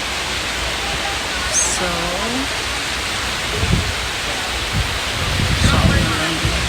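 Ocean waves wash in at high tide on a Boracay beach as a loud, broad, continuous roar, with a voice speaking briefly over it.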